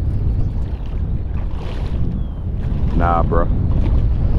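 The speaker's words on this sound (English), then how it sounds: "I'm fishing 25 to 30 mile per hour gusts" Strong 25 to 30 mph wind gusts buffet the microphone in a continuous roar over water while fishing for redfish, with a man's brief remark partway through.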